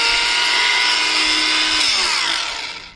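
A WORKPRO 20V cordless angle grinder runs at a loud, steady high-pitched whine close by, then its pitch drops as it winds down near the end.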